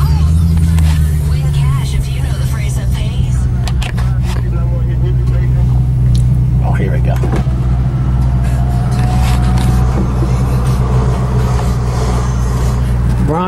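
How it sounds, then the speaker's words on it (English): A Maserati sports car in first gear with paddle shifters and the window down gives a deep, loud engine drone throughout, with someone talking over it. "Put the window down so you all can hear this thing."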